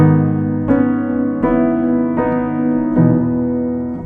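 Piano chords from an arrangement of 'The Blessing', one note lowered to an E, are struck one after another, five sustained attacks ringing out and overlapping, loud and close, with no talking.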